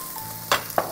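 Chicken frying in oil for Singapore rice-vermicelli noodles: a soft, steady sizzle broken by two sharp, louder spatters or stirring scrapes close by, with no one talking.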